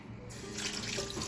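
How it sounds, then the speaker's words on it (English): Cold tap water runs steadily from a kitchen faucet over freshly cooked pasta in a pot, a continuous close rushing splash that grows a little louder partway through, with no talking. "So we're just gonna rinse some cold water over it."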